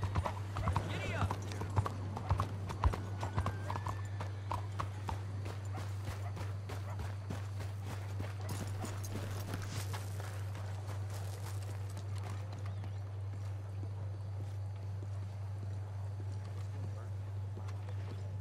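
Horse hooves clip-clop at a steady trot in Red Dead Redemption 2, a continuous rhythmic patter under a low constant hum, with a whinny early on and faint voices.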